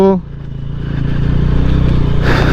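A small-engine motorbike rides along a jungle trail toward Raika hill, its steady low engine drone close and continuous after a brief opening tone, with a voice talking over it.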